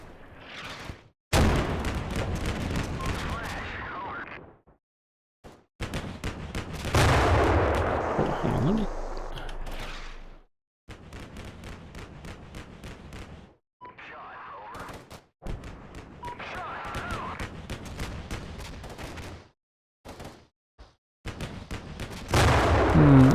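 Artillery fire in the Combat Mission Black Sea video game: repeated heavy booms and gunfire bursts in loud clusters separated by short silences, with someone talking over parts of it.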